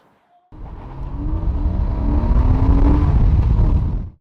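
A Porsche Boxster S roadster of the 986 generation, being driven, its engine pulling steadily and rising in pitch as it accelerates, loud and close, with no talking over it.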